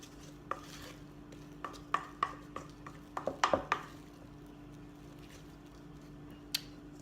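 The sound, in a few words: spoon mixing microwave mashed potatoes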